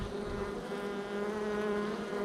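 Honey bees humming steadily inside an opened hive during a queen check, a continuous close, soft drone with an even pitch and no pauses.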